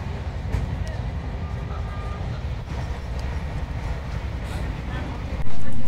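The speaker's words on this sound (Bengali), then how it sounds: "দুর্গাপুর ঢুকবে আমাদের ট্রেন, এখনও ঢোকেনি।" A passenger train runs on rails on the way into Durgapur, producing a continuous low rumble and rattle heard from inside the carriage, with a sudden louder surge near the end.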